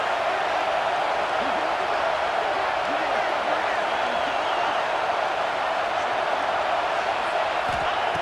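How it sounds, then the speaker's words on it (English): A college football stadium crowd at USC vs Penn State roars in a steady, dense wall of noise, with a commentator talking over it throughout. "this crowd is fired up. Listen to this noise here."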